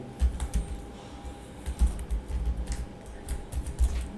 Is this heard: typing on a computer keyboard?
yes